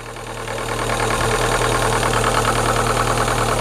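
A Rover 25 GTI engine idles steadily up close with its bonnet open, a loud continuous mechanical hum with a faint knocking rhythm throughout, no voices.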